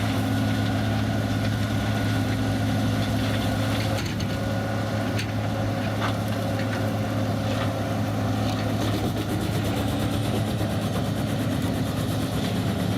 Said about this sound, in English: Massive logs, including entire tree trunks and stumps, are being loaded onto the feed conveyor.